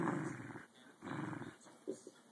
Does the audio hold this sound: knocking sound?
no